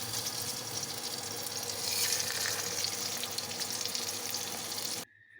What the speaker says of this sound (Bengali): বেগুন ভাজার জন্য ফ্রাইং প্যানে তেল গরম করে নিয়েছি